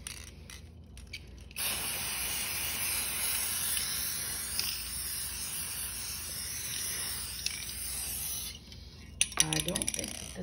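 A spray can hisses in one long continuous burst for several seconds, nearby and steady, followed by a few short rattles and clicks.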